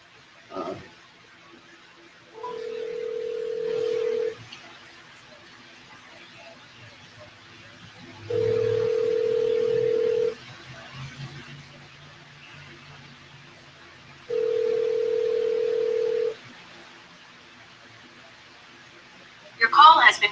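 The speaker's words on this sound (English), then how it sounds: "I was calling my niece." A phone call rings out: three evenly spaced steady ringback tones, each about two seconds long with long gaps between, heard quietly over faint room background.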